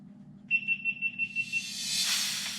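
GoPro camera beeping as it powers on, a run of about seven evenly spaced bright electronic beeps, followed by a soft rising hiss; a low steady hum sits underneath throughout.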